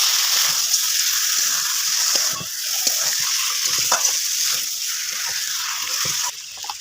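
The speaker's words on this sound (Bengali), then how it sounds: "মেরিনেট করে রাখা মাটনটা দিয়ে দেবো দিয়ে নাড়িয়ে নেবো" Marinated mutton hisses and sizzles as it is stirred into fried spices in a pot, a steady frying sound broken by scraping and knocking from the spoon, with no talking.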